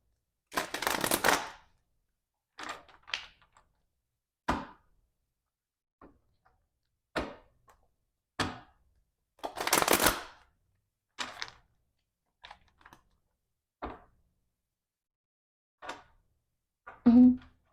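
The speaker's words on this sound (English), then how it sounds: "Shuffling for Aries." A tarot deck is shuffled in short, separate bursts of card riffling and tapping, each brief and crisp, spaced across a quiet room with silent gaps between them.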